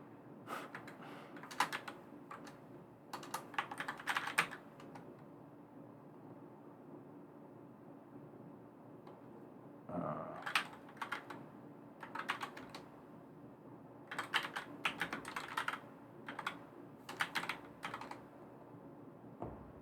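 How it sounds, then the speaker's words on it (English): Bursts of quick keystrokes on a computer keyboard as commands are typed, in clustered runs separated by pauses, close and fairly quiet over a steady low hum. "I'm just like typing commands, trying to guess what they are"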